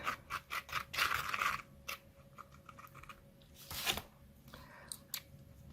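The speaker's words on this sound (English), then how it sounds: "I will first moisten out the area and rub it a bit, add some slip" Moistened cement clay being rubbed and worked by hand, quiet close scratchy scraping strokes in short bursts, a few quick rubs followed by scattered softer scrapes.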